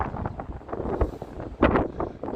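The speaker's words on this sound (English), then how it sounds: "it's getting a little windy" Gusts of wind buffet a microphone outdoors at night in Las Vegas, uneven bursts of low rumbling that swell and fall, with a stronger gust near the end.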